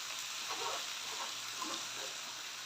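Chopped bottle gourd frying in a pan gives a steady, soft sizzle with faint crackles and stirring sounds, close by and unbroken, with no voices.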